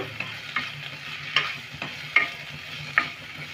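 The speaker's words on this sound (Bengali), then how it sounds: "এবার কিন্তু ভালো করে নেড়ে নেব।" Paneer roll filling seasoned with salt and black pepper gets stirred in a hot pan: crisp spatula scrapes land roughly every second over a low, steady sizzle, close and with no voices.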